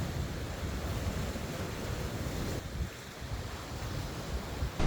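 Sea waves wash against a rocky shore in a constant rushing hiss, mixed with heavy wind buffeting the microphone, with no voices.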